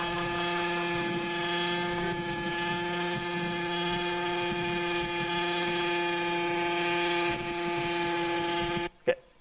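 Autonomous model helicopter hovering upside down, its rotor drone a loud, steady tonal whine that holds for about nine seconds before cutting off abruptly, followed by a brief knock.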